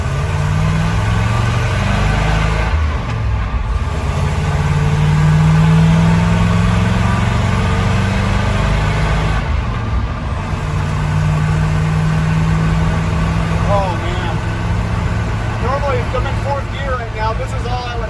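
Pickup truck with an NV3500 manual transmission under way, its steady mid-pitched engine drone running continuously with a shift around the overdrive gear, while someone talks over it throughout.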